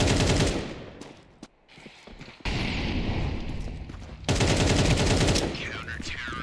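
AK rifle fire in an esports Counter-Strike-style match, loud rapid bursts of automatic gunfire with sharp pops, quieter gaps between volleys, and game ambience underneath.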